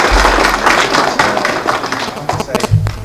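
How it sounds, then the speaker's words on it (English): Conference audience giving a quick round of applause, a loud dense burst of clapping up close that thins out toward the end, with a few scattered taps. "So should we just give them a quick applause?"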